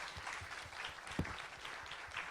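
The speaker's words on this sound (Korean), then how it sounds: "박수 좀 부탁드리겠습니다" Audience applause at a Korean venture business forum, a steady wash of many hands clapping at a moderate distance, fairly faint, with no talk over it.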